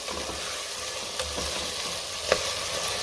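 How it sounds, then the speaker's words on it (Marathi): Vegetables and soaked chana dal being sautéed in a pan for masale bhat, a steady close sizzle with faint stirring scrapes and one sharp utensil clink near the end. "आता हे सगळं 2 मिनिटं मी चांगलं परतून घेणार आहे।"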